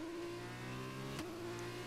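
Formula 2 car engine in the racing game F1 2021, a steady mid-pitched hum that dips sharply with a brief click before settling back to a constant tone, quiet and without speech.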